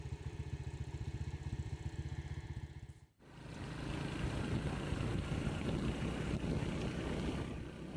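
A motorcycle engine runs on a roadside in Vietnam, first as a steady, pulsing idle, then it cuts out briefly. It comes back as a rougher, louder revving roar with wind buffeting the microphone.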